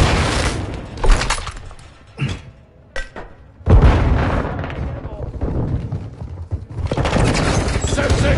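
Semtex grenade blasts and gunfire in the Call of Duty Modern Warfare beta on PS5, loud booming bursts with a dense explosion near the middle, mixed with in-game chatter and shouting.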